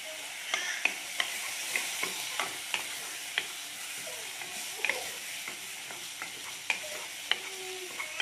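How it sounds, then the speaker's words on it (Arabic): Onions stirred and fried in a pan for vegetable rice, a soft continuous sizzle with regular light clicks and scrapes of a spoon, fairly quiet and close, with no voices. "نقلب البصل مع بعض"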